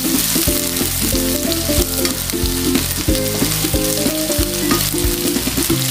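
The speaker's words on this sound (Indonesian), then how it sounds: "So bahan tumis saya dah gula wangi, so saya masukkan sayur midin ni." Midin fern greens, a wild fiddlehead-like Sarawak vegetable, stir-fried in a pan over a sautéed base, giving loud steady sizzling with rhythmic scraping and clanking of a utensil throughout.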